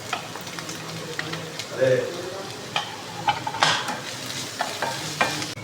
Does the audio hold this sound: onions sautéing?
yes